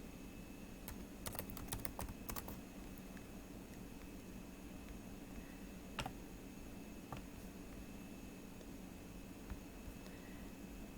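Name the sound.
typing on a computer keyboard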